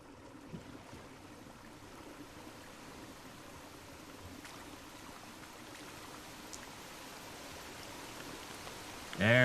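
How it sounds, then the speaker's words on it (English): Water runs from pipes in the video game Drain Sim, a faint continuous trickle like a stream throughout, with a brief louder burst at the end. "Because I hear water."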